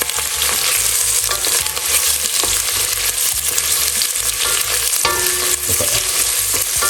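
Cauliflower soup ingredients being stirred in a pot, a loud close sizzle and frying hiss underneath repeated scraping strokes of the spoon, continuous and with no talking.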